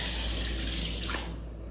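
Water runs from a tap onto tamarind and salt set to soak for a raw jackfruit kurma, a steady close pour with no talk that eases off near the end.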